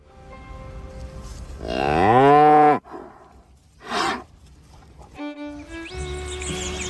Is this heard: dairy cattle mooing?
yes